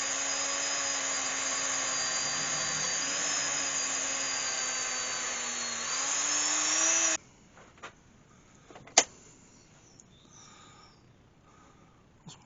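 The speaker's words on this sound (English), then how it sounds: "I'm just going to go in with the Dremel. I've just got a soft brush on there" Dremel rotary tool spinning a soft brush against a turned hawthorn root wood vase: a steady, close whirring drone for about seven seconds with slight pitch shifts, then it cuts off, leaving quiet room noise and a few small knocks.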